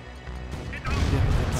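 Explosions in Command & Conquer Red Alert Aftermath, a muffled crash and rumbling blast thickening near the end, with someone talking over it.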